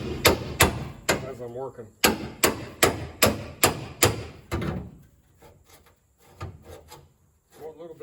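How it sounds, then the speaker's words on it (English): Steel chisels knocked and pried against the metal trunk pan of a 1967 Cadillac, a quick series of sharp rhythmic metallic blows followed by scraping and scattered taps, with a brief spoken remark. "I use a couple chisels at the same time that kind of prise it apart"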